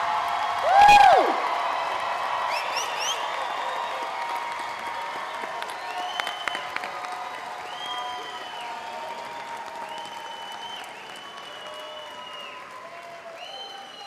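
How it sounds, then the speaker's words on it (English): Audience applause for graduates at a 2025 commencement ceremony for a School of Health and Natural Sciences, opening with a loud burst and a whoop, then settling into steady, moderately loud clapping across the hall with scattered crowd noise. "Let's give them another round of applause."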